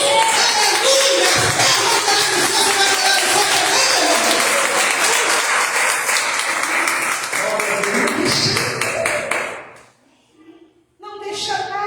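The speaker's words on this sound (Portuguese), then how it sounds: "Aplauda Jesus!" A church congregation bursts into loud applause during a Portuguese sermon, dense clapping with scattered voices that fades out briefly before starting again.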